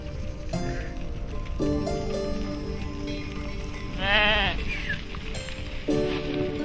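Government-owned sheep on Tibetan grassland bleat several times, close and clear, over a steady outdoor background hum with no talking.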